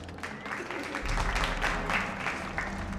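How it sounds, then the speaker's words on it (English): A small, scattered golf clap in the Landsmeet council hall of the video game Dragon Age: Origins, a few polite hand claps that build after a second and hold over a murmuring crowd. "Golf clap."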